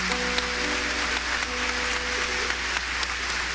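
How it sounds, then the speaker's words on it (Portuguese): A church congregation claps in a steady, even burst of applause throughout, with a low hum underneath and faint tonal sounds in the background. "Pode aplaudir"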